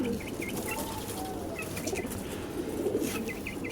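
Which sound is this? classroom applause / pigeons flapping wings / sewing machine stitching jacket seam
pigeons flapping wings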